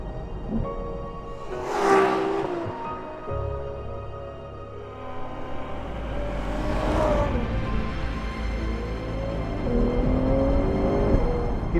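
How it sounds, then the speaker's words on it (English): A 2021 Ferrari 812 GTS naturally aspirated V12 engine revs hard twice, climbing to a shrieking peak each time, then hums steadily between the revs with no talking. "That is the sound of a naturally aspirated V12 engine."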